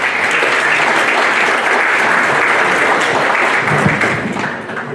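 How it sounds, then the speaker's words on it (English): An audience at a Mobile Home Summit in Vallejo, California claps in dense, sustained applause for a speaker coming up. The clapping is loud and even throughout, with no talk over it. "Please, a round of applause for Ollie"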